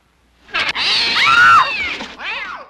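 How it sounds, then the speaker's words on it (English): A cat lets out a loud, drawn-out yowl close by, its pitch rising and falling, then a shorter wavering cry follows. "Lo and behold, it's a cat."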